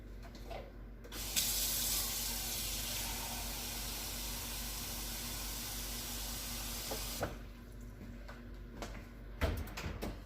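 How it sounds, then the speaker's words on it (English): Tap water runs steadily into a pot in a home kitchen while cooking cheesy gratin potatoes, a constant close hiss lasting about six seconds before cutting off, followed by faint clinks and handling noises. "Make sure to put some water in here."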